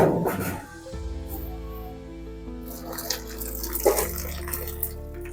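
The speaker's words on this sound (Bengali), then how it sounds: "নুডলসটা ছেঁকে নিয়ে ঠান্ডা জলের মধ্যে দিয়ে দিচ্ছি।" Boiled noodles tipped into a strainer and rinsed with cold water in a kitchen sink: running water pours and splashes near the microphone, with clatter and dripping, no voices.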